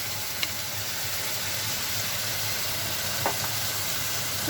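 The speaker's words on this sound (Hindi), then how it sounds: "everything is fried, and now we'll add the vegetables" Vegetables frying in a ginger, garlic and tomato masala, a steady close sizzle of hot oil that runs unbroken, with a couple of faint stirring clicks and no talk.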